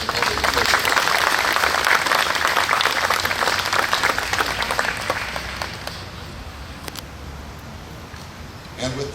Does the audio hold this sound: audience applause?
yes